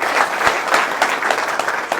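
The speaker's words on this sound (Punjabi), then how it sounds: "ਸੋ ਇੱਕ ਵਾਰ ਜ਼ੋਰਦਾਰ ਤਾੜੀਆਂ ਨਾਲ ਦਾ ਧੰਨਵਾਦ" An audience claps loudly and continuously for a couple of seconds in a riverside gathering, a dense, close wash of applause with no voices over it.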